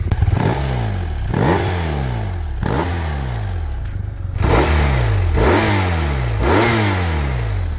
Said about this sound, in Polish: Praca tego silniczka jest klasą samą w sobie